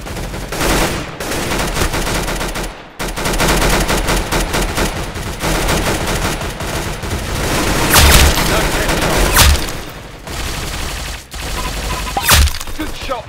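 Rapid gunfire fills a video game match, dense and continuous, with sharper shot peaks standing out, while players talk over it.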